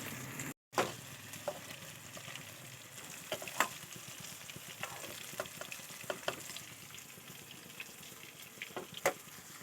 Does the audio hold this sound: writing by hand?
no